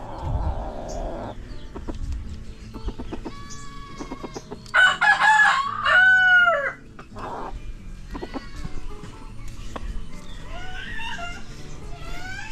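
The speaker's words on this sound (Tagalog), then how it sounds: "Laking manok. Grabing manok yan." A rooster crows loudly nearby, a long strained call, amid scattered clucking and other farmyard bird sounds.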